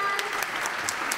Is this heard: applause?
yes